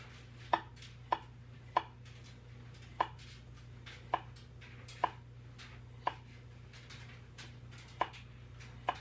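A knife chops potatoes on a cutting board for scalloped potatoes, about a dozen crisp, fairly quiet strikes spaced unevenly over a faint steady background hum.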